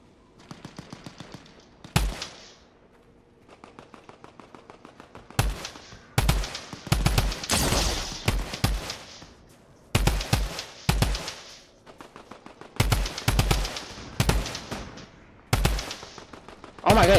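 Bursts of gunfire from a scoped DMR-type rifle in Fortnite, several clusters of rapid sharp shots spread through the clip with brief gaps between volleys, loud and close, with a quieter stretch near the start.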